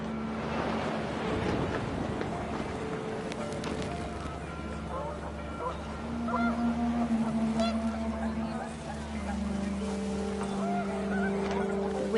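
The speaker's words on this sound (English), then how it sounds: "The wind picked up, and panicked geese appeared and quickly went." Panicked geese honk in a windy outdoor scene from the video game What Remains of Edith Finch, their calls rising and falling through steady gusting wind while a narrator speaks over them.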